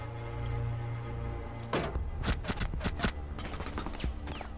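Game gunfire, a rapid burst of sharp shots after a low droning hum, close and loud, the shots coming in quick irregular volleys.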